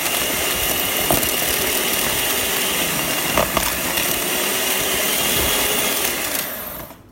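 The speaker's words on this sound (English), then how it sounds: "I'm gonna take my hand mixer and I'm going to ground this" A hand mixer grinds almond paste with a loud, continuous whirring drone that holds steady and then winds down at the end.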